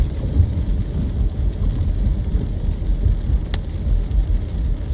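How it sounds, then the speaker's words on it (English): Heavy rain drums steadily on a car driving along a coastal Connecticut road in winter, a dense constant roar with no talking. "And now it's raining pretty hard."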